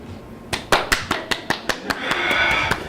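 A sparse, uneven round of clapping from a small comedy club audience, roughly a dozen distinct sharp claps spaced out, briefly thickening into a short patter near the end.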